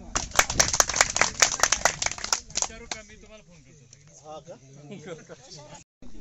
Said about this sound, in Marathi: एक वेळ सगळ्यांनी आपल्या स्वतःसाठी टाळ्या वाजवा.